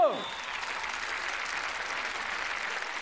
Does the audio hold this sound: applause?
yes